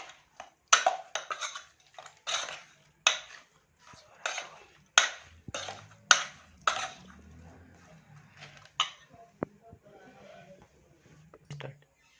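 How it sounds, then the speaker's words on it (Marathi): Chicken is stirred together with spices and ingredients in a pot, a series of distinct scraping and clinking strokes in an irregular rhythm, close and fairly quiet, with some faint low sounds between them. "आता हे सर्व साहित्य आपल्याला मिक्स करून घ्यायचं।"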